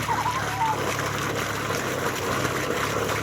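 Water gushes steadily from a motor pump into a paddy field, a continuous rushing splash with a low mechanical hum beneath, close and moderately loud.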